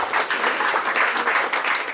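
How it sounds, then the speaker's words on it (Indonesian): Steady audience applause from a gathered crowd of party members at a training event in Malang, dense and continuous clapping filling the full two seconds with no voices on top. "Tepuk tangan buat diri kita masing-masing."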